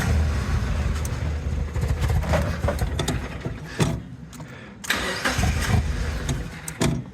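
A Mazda MX5 Miata engine cranks in several separate bursts and fails to catch each time, with short pauses between the starter attempts, heard close and fairly loud.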